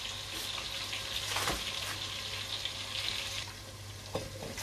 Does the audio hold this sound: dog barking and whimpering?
no